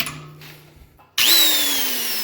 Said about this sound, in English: I got the drill out.